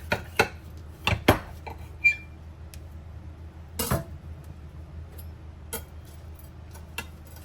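Several sharp, quiet knife cuts and clicks against a board as a quesadilla is cut in half, spaced irregularly with soft crunches in a quiet room.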